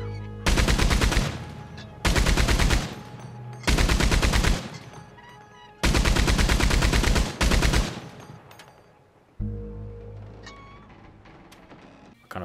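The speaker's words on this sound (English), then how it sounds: "I wanted to get on this little mounted Maxim gun" A mounted Maxim machine gun firing in the western game Red Dead Redemption 2: four long, loud, rapid bursts separated by short pauses, then a quieter trailing burst, with no talk.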